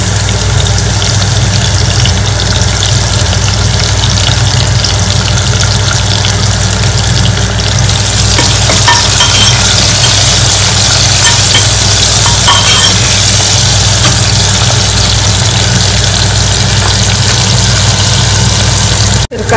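Garlic, curry leaves and onion frying in a pan, giving a loud, continuous sizzle and crackle for the whole stretch with a constant low hum underneath. No voices.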